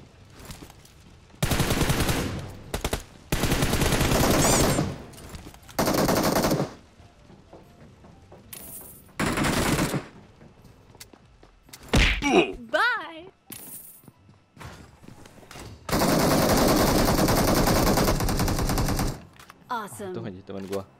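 Machine gun fire in a video game battle arrives in several loud, sustained bursts of a few seconds each, separated by quieter pauses with scattered shots and metallic clinks.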